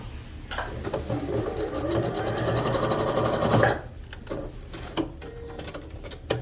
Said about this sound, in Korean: 이렇게 그냥 고정으로 살짝 박음질 해둡니다 허리 쪽도 살짝 박음질 해줄게요